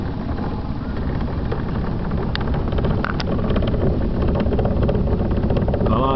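A motorboat engine drones steadily and loud on open water during a fishing trip, a constant low rumble mixed with wind buffeting the microphone.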